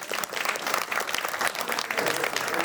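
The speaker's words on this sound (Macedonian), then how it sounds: "Голем аплауз за гостите" A crowd at a music revue in Makedonska Kamenica applauds guests from a pensioners' association, a full, even roar of many hands heard from within the hall, sustained and moderately loud with no voices.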